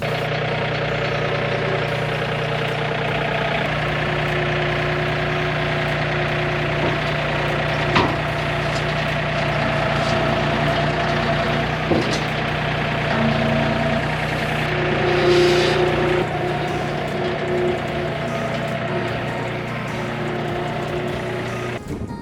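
Tractor engine idling steadily before hooking up a brush hog along a property fence line, a continuous low rumble with a few faint clunks and knocks over it, no talking.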